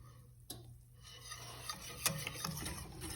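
Flour paste being whisked in a pot as it cooks and thickens, a soft steady scraping and stirring with a few light taps of the whisk against the pan.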